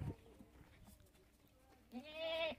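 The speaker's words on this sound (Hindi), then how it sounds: "ये हमारी बकरी है" A pet goat bleats loudly near the end, a single wavering call following a short noisy stretch of farmyard handling sounds.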